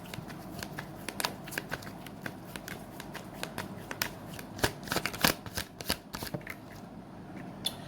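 Tarot cards being shuffled up close, a quiet run of rapid riffling flutters and soft snaps that comes in uneven bursts, with no voice.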